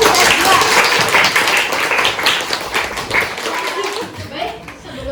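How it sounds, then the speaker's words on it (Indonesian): Students in a classroom clap together for their class, loud and close, with the dense clapping fading toward the end and some voices and chuckles mixed in. "Tepuk tangan buat 11 IPS"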